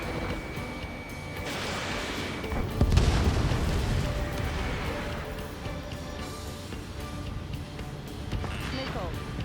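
In Ace Combat 7, a UAV is shot down and explodes with a heavy boom amid jet and missile game audio, followed by lingering rumbles as voices talk over the action.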